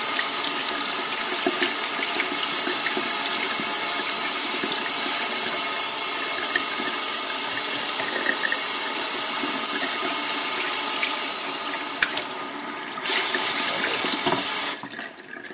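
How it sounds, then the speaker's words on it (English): A kitchen tap runs steadily and loudly as a gutted trout is rinsed under it, a constant splashing rush that changes briefly near the end before cutting off. "He's gutted the trout, but we'll just give her a nice rinse just in case there's anything we've missed."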